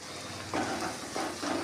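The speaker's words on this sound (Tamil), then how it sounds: "நம்ம போட்ட சின்ன வெங்காயம் பூண்டு எல்லாமே நல்லா வதங்கி இந்த அளவுக்கு வந்தால் போதும்" Small onions and garlic sautéing in a pan for a tamarind tomato-okra kuzhambu, a steady low sizzle with a few louder bursts of frying as they are stirred.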